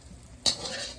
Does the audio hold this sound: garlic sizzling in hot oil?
yes